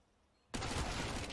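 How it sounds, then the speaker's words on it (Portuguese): Gunfire in the video game Counter-Strike: Global Offensive during a professional match, a sudden loud burst after near silence that sustains as a dense, rapid volley to the end. "o Nafly acertou um tiro no peito, ficou com 6"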